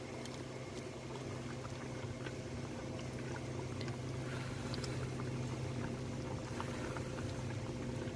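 Dal (lentils) boiling uncovered on a high flame to cook off the water, a steady, faint bubbling hiss with a low hum beneath it and no talking.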